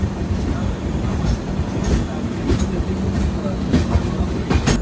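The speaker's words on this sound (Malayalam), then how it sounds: "അപ്പുറത്തൂടെ പോകുന്നത് എറണാകുളം മഡ്ഗാവ് സൂപ്പർ ഫാസ്റ്റ് ആണ് കേട്ടോ" The Ernakulam–Madgaon Superfast rumbles past on the adjacent track, heard from a neighbouring train, with a loud continuous roar and rhythmic clickety-clack of wheels over rail joints, close and steady throughout.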